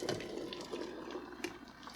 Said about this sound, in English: I'm going to pour it into what we're going to call a pot.